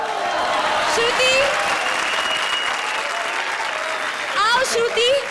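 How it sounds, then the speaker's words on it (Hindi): A studio crowd at a comedy show's award moment breaks into loud, sustained applause, with voices and cheers breaking through it. "तालियां, तालियां।"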